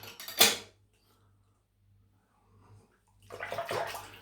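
The head of a Wilkinson Sword Classic safety razor is rinsed under running tap water: a short splashing burst, a near-silent pause, then a longer run of water, all close and fairly soft.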